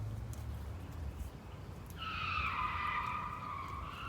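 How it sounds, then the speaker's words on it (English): A car speeds through a residential neighborhood, its tires squealing in a loud, sustained screech that rises in the distance partway through and carries on over low background rumble. "someone's driving like a maniac through our neighborhood."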